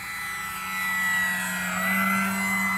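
An FMS 1700mm PA-18 Super Cub RC airplane flies overhead, its electric motor giving a steady, droning whine that swells slightly as it passes, loud and continuous with no talk.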